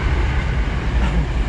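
A train passes close by in Japan, a loud, dense roar of rolling wheels and rushing air filling the whole clip, steady and unbroken, with no talk over it.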